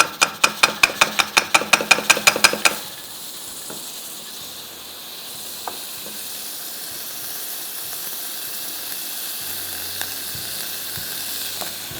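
Butter meets browned caramel in a hot pan and sets off a steady, loud hiss and sizzle, following a quick run of sharp rhythmic clicks at the very start.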